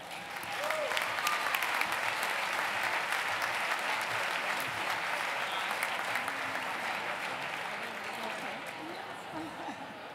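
Sustained audience applause at a children's museum gala fills the room with dense, steady clapping that rises quickly and holds for about ten seconds, tapering only slightly at the end.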